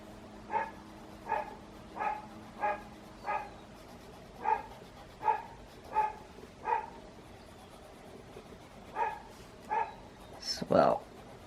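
Dogs bark repeatedly in the distance, a regular series of single barks followed after a pause by a few more and a final higher yelp.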